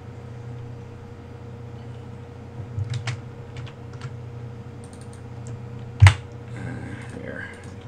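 Soft, scattered keyboard clicks tap along over a low hum, with one sharper knock partway through; no voices.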